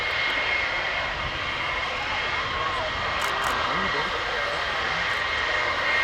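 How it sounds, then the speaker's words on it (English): A NATO E-3A Sentry taxiing at an air show, its engines giving a steady broad roar that fills the whole stretch, with a commentator talking over it. "while we see the Nato E3 taxiing towards us"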